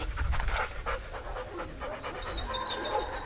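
A Belgian Malinois dog pants rapidly and steadily up close, with faint background noise throughout.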